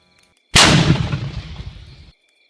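A single loud gunshot from an enemy firing position on a border battlefield, a sharp blast at close range followed by a long rumbling decay of about a second and a half, with no voices.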